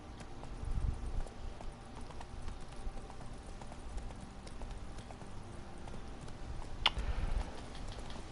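Horse hooves clip-clop at a steady walking rhythm while riding Roach in the Witcher 3 video game, a soft continuous patter under faint ambient sound with one sharp click near the end.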